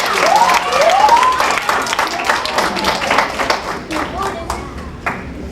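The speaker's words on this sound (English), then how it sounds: "Give her a big round of applause." An audience at a library magic show applauds loudly with dense, steady clapping that fades slightly toward the end, with some voices and whoops mixed in.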